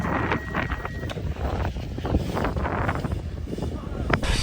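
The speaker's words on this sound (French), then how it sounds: "Ouah, le vent, frère!" Gusty wind blasting into the microphone of a BMX rider out riding, heard as a loud, rough, fluttering rumble that rises and falls in bursts, with a voice briefly under it.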